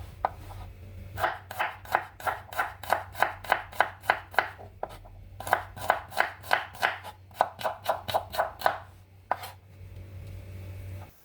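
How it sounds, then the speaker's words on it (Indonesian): About ten curly green chilies are sliced diagonally with a knife on a board. The cuts come as rapid, rhythmic taps in bursts with short pauses, close and clear, with no talking. "Untuk cabai hijau keritingnya aku menggunakan sekitar 10 buah, lalu diiris menyerong seperti ini."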